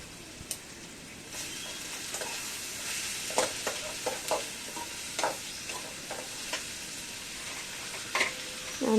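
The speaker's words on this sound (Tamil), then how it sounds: "போட்டு கிளறி விட்டுட்டே இருக்கணும்," Crab gravy frying in a pan, with a steady sizzle under repeated scraping stirs from a spoon that come at an uneven rhythm, close and moderately loud, with no talking.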